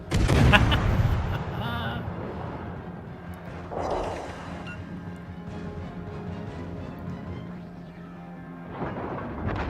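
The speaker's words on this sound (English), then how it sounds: "He's gonna get hit by torpedoes from that little destroyer." Torpedo hits striking a warship in World of Warships Legends, a heavy booming impact at the start followed by a second softer burst and rumbling engine-like drone, with another thud near the end.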